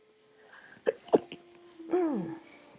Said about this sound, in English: Excuse me, I'm sneezing.